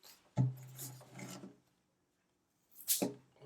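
Protective film being pulled off a DEKCO UHD wireless solar outdoor camera, two short rasping tears separated by a pause, close and fairly quiet with no talking.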